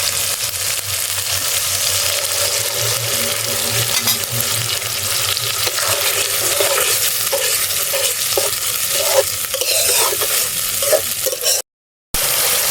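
Spice-rinse water is poured into spices frying in a pan, and they are stirred steadily. A loud sizzle runs under continuous scraping, with a brief cut to silence near the end.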